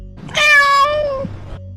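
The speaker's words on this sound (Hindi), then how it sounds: "अरे ये बिल्ली भी ना इतनी काली है कि दिखाई भी नहीं दे रही" A black cat gives one loud, drawn-out meow close by, rising and then trailing off, with a quiet background.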